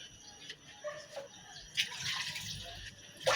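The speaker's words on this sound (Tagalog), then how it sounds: "kaya dami-damihan ko ng tubig" Water runs and splashes into a cooking pot while fish soup with malunggay leaves is being made, a moderate uneven pour with brief surges and drips, close by and without talk.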